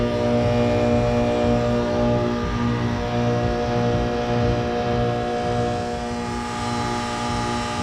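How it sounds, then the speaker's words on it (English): A malfunctioning 2003 ICP heat pump in heat mode runs with its fan motor turning slowly, a steady mechanical hum and drone that holds throughout with slight swells in level, close and alone. "Something just happened with the fan motor."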